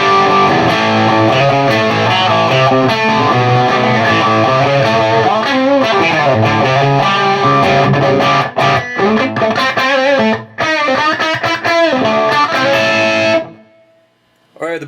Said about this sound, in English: the boost pedal, I've got the gain set at about 9 o'clock, so it's really not adding a ton of distortion to it